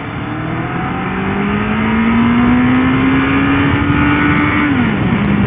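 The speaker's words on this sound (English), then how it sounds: "Quite hit the rev limiter. I don't think my bike liked that very much at all." Motorcycle in first gear revving up toward its rev limiter, a loud close engine note climbing steadily in pitch before dropping off sharply near the end, with no talking.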